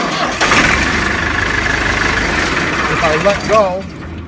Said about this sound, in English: So in order to start this engine, I pull on the ignition switch here.